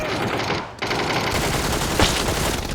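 Dense, loud automatic gunfire from PUBG rattles continuously, shots blurring into a near-unbroken roar with one brief dip partway through.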